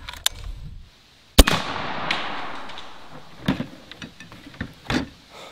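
An AEA Zeus air-powered arrow gun fires into ballistic gel outdoors: one sharp, loud report followed by a long decaying wash of sound, with a few smaller thumps and knocks afterward.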